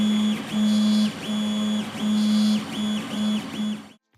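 A 3D printer driven by an SKR V1.3 32-bit board with ordinary stepper motor drivers whines as its stepper motors move, steady tonal hums starting and stopping in short segments, loud and close, until it cuts to silence.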